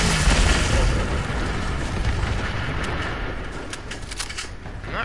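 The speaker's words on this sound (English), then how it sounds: "I'm not really sure what that explosion was about" A loud, sustained explosion rumbles through a Fallout 76 game scene, a deep booming roar that fills the whole clip and slowly tapers, with no voices over it.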